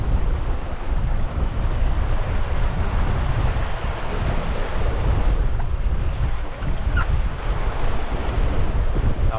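Strong northeast wind roars steadily across the microphone over crashing surf on Madeira, a loud continuous seaside blast with no voices.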